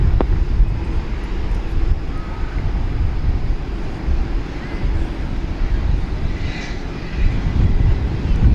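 A Turkish Airlines airliner departs DFW airport at night, its engines a loud, steady roar mixed with wind buffeting the microphone, sustained throughout with no talk.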